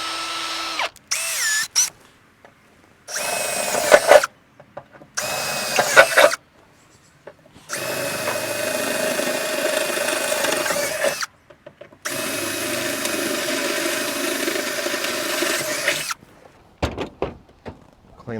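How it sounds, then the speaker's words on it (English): An electric drill bores holes with an 8.5mm bit into the tub of a 2017 Mitsubishi Triton MR, running in several loud bursts of a few seconds each, with two longer sustained runs separated by short pauses. "So just looking to drill in the center of these holes now."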